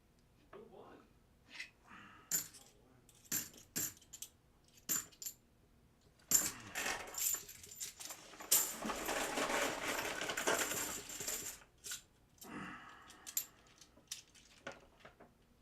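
Half dollar coins clink and rattle as they are handled and poured from a bank bag, in repeated sharp metallic clusters with a denser stretch of continuous jangling in the middle; a person speaks intermittently over the coin sounds.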